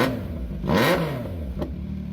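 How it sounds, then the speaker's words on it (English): A CFMOTO 675SS motorcycle fitted with an aftermarket exhaust revs sharply once, the engine note rising and falling in a quick blip before settling back to a steady, loud idle. "my sound clip video where I am revving the bike"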